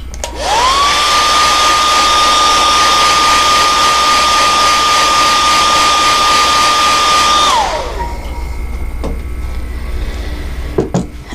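A heat tool blows loudly and steadily to set airbrushed body paint, holding a constant whining tone before it switches off and winds down, leaving faint handling noises.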